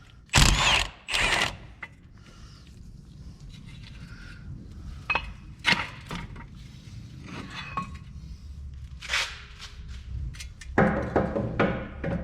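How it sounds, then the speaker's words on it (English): Ratchet and 21 mm socket working caliper bracket bolts on a Buick Verano during a wheel bearing job, with loud bursts of clicking and metallic clinks separated by quieter stretches of handling noise, close up. "21 millimeter to remove the caliper bracket bolts."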